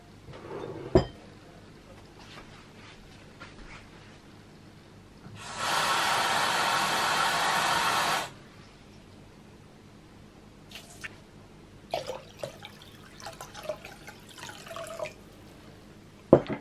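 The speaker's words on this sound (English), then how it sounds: "So we now need to add a pint of cold water" Cold water poured from a jug into a bowl of lemon and orange jelly, a steady loud splashing rush lasting about three seconds, followed by small clinks and drips in a quiet kitchen.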